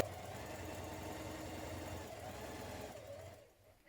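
Steady, fairly quiet whirr of a sewing machine stay stitching around a dress neckline for a vintage spring blouse, running continuously before trailing off near the end.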